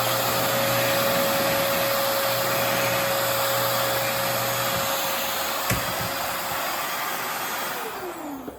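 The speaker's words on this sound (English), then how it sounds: "Next, I'm going to take the vacuum cleaner, and what I'm going to do is I'm going to create a minor vacuum within the bin." A vacuum cleaner sucks air out of a bin to create a vacuum inside it, giving a loud, steady whooshing roar with a constant tonal whine, then winding down near the end. No one speaks.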